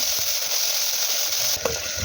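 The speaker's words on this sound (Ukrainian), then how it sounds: "Наливаємо в каструль, в якій буде варитися супчик олію, і підсмажимо спочатку цибулю" Chopped onion frying in hot oil at the bottom of a soup pot gives a steady, loud, close sizzle that crackles on without pause and with no voices over it.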